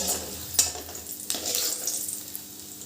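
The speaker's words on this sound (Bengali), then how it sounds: "এবার আমি ভালো করে ভেজে নিই। পেঁয়াজ রসুনটা আমার ভাজা হয়ে গেছে।" Chopped onion and garlic fry with a little turmeric in oil, a moderate steady sizzle broken by a couple of sharp clinks from the spoon against the pan, close and without talk.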